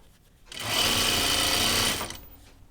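A sewing machine stitches a pajama top in one steady, loud run of about a second and a half, ramping up and then stopping, with quiet room tone before and after.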